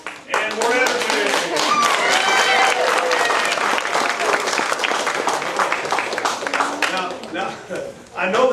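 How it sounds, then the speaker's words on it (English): An audience at a martial arts belt ceremony gives loud, sustained applause with dense clapping, fading briefly before a final burst; a voice speaks over it. "Give him a big round of applause."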